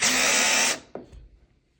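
A cordless portable screwdriver from Costco whirs loudly and steadily, then stops abruptly and gives way to a brief clack and a fading rattle.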